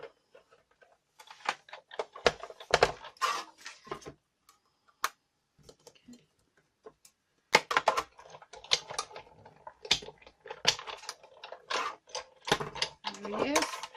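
A Big Shot die-cutting machine cranks card for a bee card, making bursts of close, rattling ticks and clicks with pauses between, and a voice speaks briefly in the gaps.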